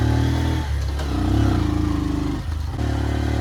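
A motorcycle rides a hill road with a close, loud, continuous engine drone that rises and dips in pitch as it shifts and accelerates, with no voices.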